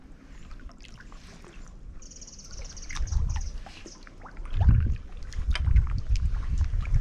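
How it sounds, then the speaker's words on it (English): Small boat paddled in close between boulders, soft water splashes and paddle strokes building in a few gentle surges over a quiet outdoor background with light wind. "I do love getting in close and paddling between the boulders."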